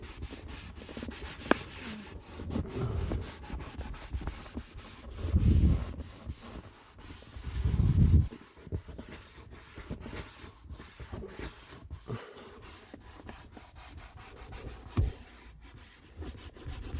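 Car interior being scrubbed with a soft, non-abrasive detailing scrub pad, giving quiet intermittent rubbing strokes with two louder bursts of scrubbing partway through.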